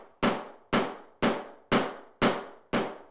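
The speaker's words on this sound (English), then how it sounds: "he's going to use his hammer and a tapping block to tap" Six sharp, evenly spaced hammer blows on a tapping block, knocking a laminate floor board into place; each strike is loud and close, with a quick decay and no talk over it.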